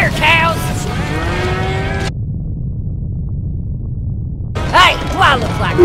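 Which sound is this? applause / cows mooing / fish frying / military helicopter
cows mooing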